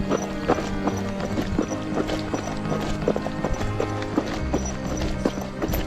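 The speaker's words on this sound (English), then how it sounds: "Got some horses coming up here too." Hooves clip-clop in an irregular rhythm on hard ground, several horses close by on a rural Iowa trail ride, with a low steady rumble underneath.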